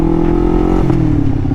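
A Kawasaki Ninja 500R sport bike's 500cc engine runs loud and close, a sustained buzzing drone with the pitch shifting slightly midway.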